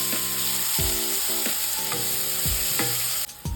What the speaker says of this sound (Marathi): कांदा घालायचा, कांदा लालसर भाजून घ्यायचा।